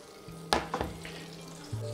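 Duck breast fillet sears in a hot frying pan, with a steady low sizzle broken by a few sharp crackles and spatters as the meat is turned over partway through; no one speaks.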